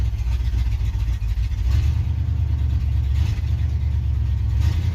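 An old Ford Ranger's engine runs with a single Cherry Bomb muffler, giving a loud, steady low burbling idle with slight rev fluctuations, close and alone.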